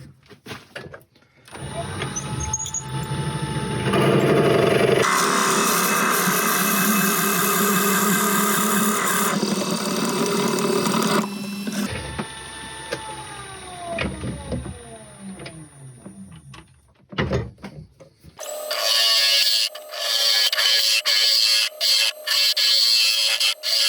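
A Forstner bit bores into oak on a woodturning lathe. A loud whirring cut comes in bursts separated by pauses, with a spin-down whine near the middle and a harsher stretch of cutting at the end.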